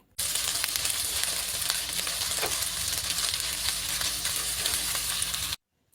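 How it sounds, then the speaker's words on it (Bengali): Onion fries in hot oil with ginger-garlic paste, giving a steady close sizzle and crackle that runs for about five seconds and then stops abruptly, with no speech. "পেঁয়াজটাকে ভালো করে ভেজে নেব"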